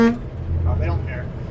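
A single short car horn toot sounds at the start, close and fairly loud, followed by steady road and engine rumble from a moving vehicle with faint voices in the background.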